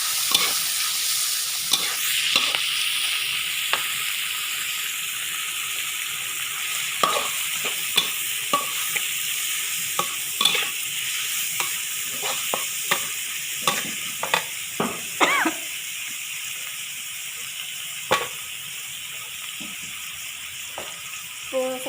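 Pork being stirred in a hot pan, a steady loud sizzle with repeated scraping clinks of the spatula at irregular intervals, close up, continuing for a long stretch.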